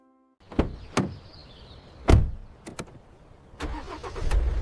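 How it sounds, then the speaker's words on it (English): A car engine cranks and catches after several sharp clunks like a door closing, then runs unevenly with rough, sputtering bursts. It is fairly close and loud, with no speech. "Oh, my car does not sound good."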